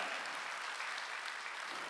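A church congregation at a Wednesday worship service applauds in a steady, dense wash of many hands clapping, without a break for about two seconds.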